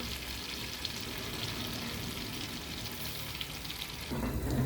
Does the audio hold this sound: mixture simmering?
yes